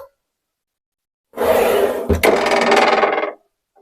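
A miter saw with a 216 mm blade cuts through wood in one burst of about two seconds: a loud, close rasping whine with a brief dip midway, then silence.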